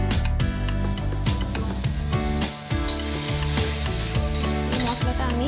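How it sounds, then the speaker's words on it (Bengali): Spice paste with chilli powder, salt, sugar and a splash of water is stir-fried for a bottle gourd and prawn curry, giving busy scraping and sizzling over a dense, steady kitchen clatter. "এই মশলাটা আমি ভালো করে কষে নেব"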